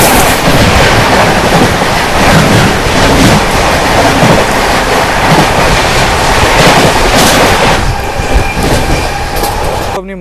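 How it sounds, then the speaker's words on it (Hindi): The New Delhi Sogaria Intercity Express rumbles past at close range, a loud continuous roar of wheels and rail clatter that fills the whole span, easing slightly near the end. "सामने से आ रही है न्यू दिल्ली सोगरिया इंटरसिटी।"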